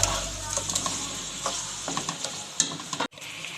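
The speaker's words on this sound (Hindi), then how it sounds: "इसके बाद हम यहाँ पे ये सब मसाले ऐड कर देंगे।" Spices added to a hot pan for achar gosht sizzle and crackle steadily, with a few stirring scrapes and brief louder pops near the end, fairly close and without talk.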